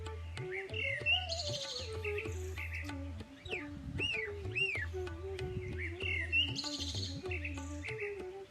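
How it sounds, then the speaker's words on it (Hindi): Birds chirp and twitter in a temple courtyard, with repeated bright rising calls and trills over a low steady hum, fairly faint and unhurried throughout. "जहां पक्षी अपनी मधुर ध्वनि से आत्मा को बहुत ठंडक देते हैं"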